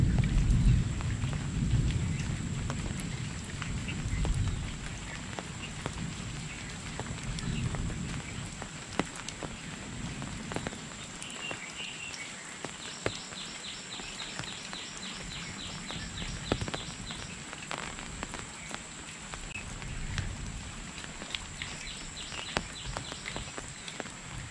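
Monsoon rain drips from tree leaves in the Konkan countryside, scattered soft taps and plops over a quiet wet background, with occasional bird calls and distant rumbles.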